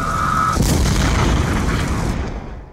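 A grenade blast in the Call of Duty campaign erupts as one loud, broadband boom after a brief tone, followed by a sustained rumbling roar that fades out near the end.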